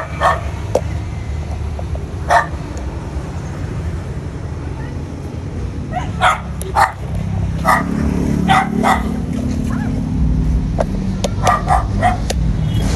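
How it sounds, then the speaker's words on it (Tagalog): A dog barks in short sharp bursts, several scattered barks and yips, over outdoor background rumble with some faint voices nearby. "May aso."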